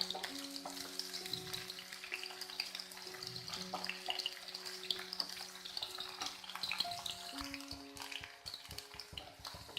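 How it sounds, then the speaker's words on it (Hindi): Okra fries over a medium gas flame in a kadhai while a spoon stirs it now and then, making a light sizzle with scraping and clattering stirs and a soft tonal hum underneath. "गैस का फ्लेम मीडियम करें और भिंडियों को फ्राई करें। आप भिंडियों को बीच बीच में चलाते रहें।"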